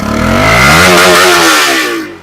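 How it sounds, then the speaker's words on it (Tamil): A Bajaj Pulsar RS200 motorcycle with a BS3 engine gives a loud, close exhaust note while riding, rising and then easing in one continuous rev. "திஸ் இஸ் BS3 ஓட இன்ஜின் டிரைவ் சவுண்டு."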